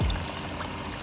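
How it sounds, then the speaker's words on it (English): Coolant water pours out of a removed pipe on a Volkswagen MK3 Jetta VR6 during a crack pipe replacement, a close, continuous splashing stream lasting about a second. "Oh, look at that, water."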